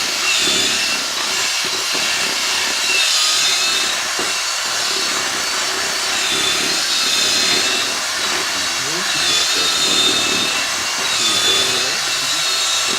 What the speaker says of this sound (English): these do make nice grout drills